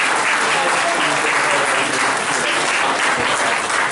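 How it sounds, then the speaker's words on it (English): A hall full of fans at a 2020 Only Fools and Horses convention claps for guests Tim Healy and John Lyons, a dense, steady round of applause throughout. "please give them both a big round of applause"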